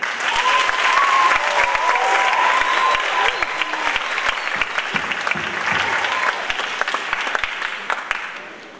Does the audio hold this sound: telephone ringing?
no